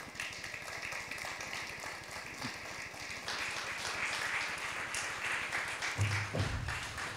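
An audience in a cathedral gives a warm round of applause, a dense, steady patter of many hands that carries on evenly, with a few louder bursts near the end.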